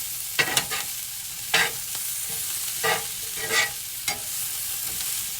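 Steak and egg skillet frying in butter, a continuous close sizzle broken by several sharp scraping stirs of a utensil against the pan, with no one speaking.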